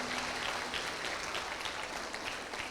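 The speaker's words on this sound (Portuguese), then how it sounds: "Você pode aplaudir o Senhor, já esquenta as mãos." A church congregation applauds to praise the Lord, a faint, steady patter of many hands clapping together without any voices over it.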